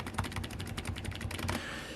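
Keys clatter rapidly and evenly on a Razer Huntsman Mini 60% keyboard, a close, fairly soft run of typing that stops just before the end.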